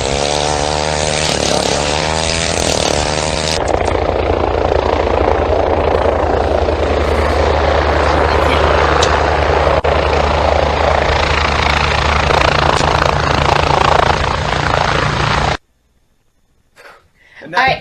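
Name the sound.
ice auger drilling into ice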